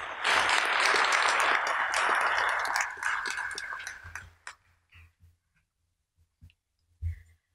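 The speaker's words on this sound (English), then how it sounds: "So let's give these scholars another round of applause and have a good night." A hall audience at a college awards night applauds scholarship students in a loud, dense burst of clapping for about four seconds, then it tapers off into a few scattered claps and faint knocks.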